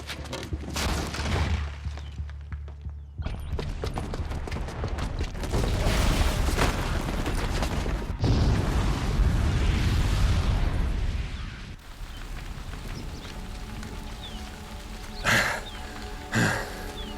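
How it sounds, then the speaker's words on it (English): Bomb explosions from a booby trap in the video game Horizon Zero Dawn, with heavy booming blasts and rumbling debris over several seconds, followed by a calmer stretch and two sharp bursts near the end. "the booby trap on the bomb downstairs is gonna get set off"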